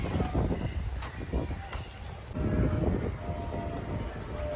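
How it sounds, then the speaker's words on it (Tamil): A train rumbles past nearby at Veli Beach, Thiruvananthapuram, a continuous heavy clatter and roar that swells midway and stays loud throughout. "இந்த ட்ரெயின் வருது ஃப்ரெண்ட்ஸ்"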